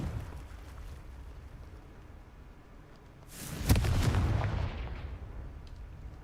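A Confringo fire blast spell goes off in a Hogwarts wizarding video game, a single loud explosive burst that rumbles and fades over a couple of seconds against quiet background ambience.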